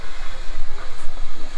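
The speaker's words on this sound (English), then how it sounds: "these here are Shea style locomotives" A steady, loud hiss of escaping steam with a low rumbling pulse underneath from a Shay geared steam locomotive idling close by at Cass Scenic Railroad, West Virginia.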